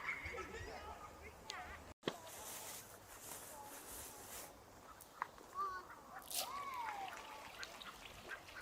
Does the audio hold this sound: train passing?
no